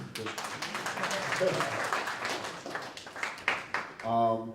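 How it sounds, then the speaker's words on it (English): Audience round of applause at a live spoken-word and music event, a dense wash of clapping that swells and fades over several seconds, with voices mixed in and a brief tonal sound at the end. "Can we get one more round of applause?"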